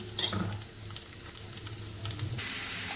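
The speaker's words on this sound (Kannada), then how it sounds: "ಆನಿಯನ್ ಫ್ರೈ ಆಗಿದೆ. ನಾನು ಇವಾಗ ಮಶ್ರೂಮ್ ಹಾಕೋತಾ ಇದ್ದೀನಿ." Mushrooms go into a pan of frying onions for mushroom fried rice, bringing a close, steady sizzle with stirring clatter that swells into a louder hiss near the end.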